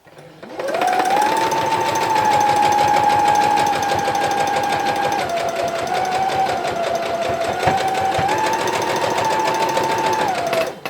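A sewing machine stitches quilt fabric along a guide line for a Disappearing Fence Rail quilt block, a steady loud motor hum running almost continuously with a brief dip in pitch midway, no talk over it.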